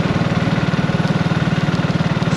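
BSA Rocket Goldstar motorcycle engine pulling in top gear, a loud, steady, rapid low thumping beat heard up close throughout.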